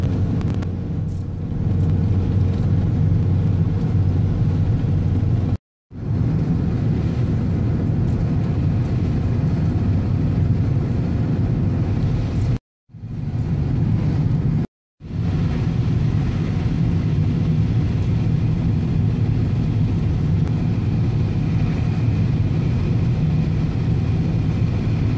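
Car driven along winter roads just above freezing, a steady close engine and road rumble with low droning tone, interrupted by two or three brief cuts to silence, no talk.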